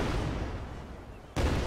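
Boat-mounted cannons firing in the ARK: Survival Evolved video game, a dense rumbling blast that holds steady, then a sudden second loud boom near the end.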